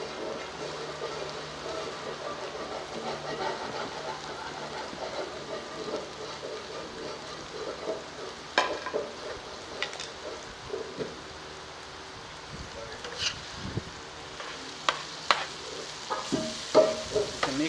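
Goat brain (maghaz) being stirred into sizzling masala in a pan, a steady frying hiss with scraping stir strokes growing more frequent toward the end, close and fairly quiet, no voices.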